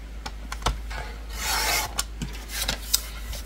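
Paper being cut and scored for a scrapbook album, a series of dry rasping strokes and small taps, close and steady with no voices.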